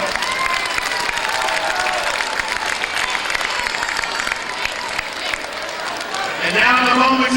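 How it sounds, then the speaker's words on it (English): An audience in a gym at a 2005 high school basketball holiday championship applauds sponsors, a sustained wash of clapping with some cheering and shouts, growing a bit louder near the end. "Ladies and gentlemen, please give our sponsors a round of applause."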